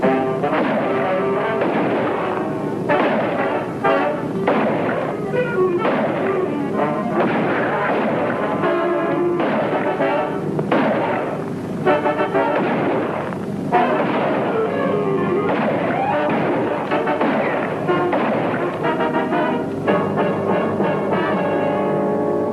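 Gunfire sound effect in a 1951 Dragnet radio crime drama: a dense, sustained barrage of loud shots and booms rattling on continuously for over twenty seconds with no pause.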